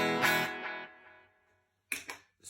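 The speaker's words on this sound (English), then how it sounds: "We've got in the delay, a little bit of bite, bit of gain, crunch, and then a distortion." Electric guitar through a distortion patch on a Line 6 Helix, one loud strummed chord ringing out and decaying over about a second and a half, then two short sharp chord stabs after a brief silence.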